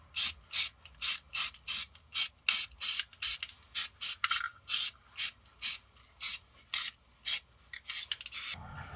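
Rust-Oleum primer sprays onto metal pegs in a rapid run of short, loud, evenly spaced hissing bursts, about two per second, close by and with no voices.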